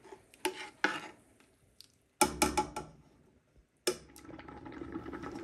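A spoon stirs homemade ketchup with spices simmering gently in a pot, giving several bursts of scraping and clinking against the pot with quiet gaps between them, then a steady low bubbling.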